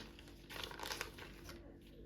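Black plastic packaging for seed paste crinkles and rustles in quick, close bursts at low volume in a quiet indoor setting, with no talking.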